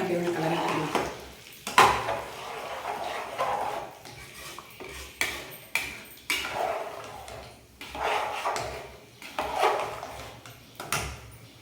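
A spoon stirs food in a metal pot for akkara vadisal, a sweet rice dish, making repeated clanks and scrapes in an irregular rhythm, close and fairly loud, with faint background voices.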